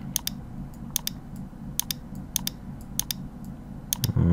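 Computer keyboard keys pressed during work in Blender, sharp close clicks coming singly and in quick pairs at an irregular pace over a low steady room hum.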